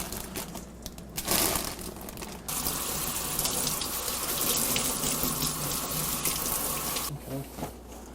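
Tap water runs steadily into a sink while bean sprouts are rinsed beneath it, with a brief burst of stronger gushing near the start and light rustling of the sprouts; faint voice in the background.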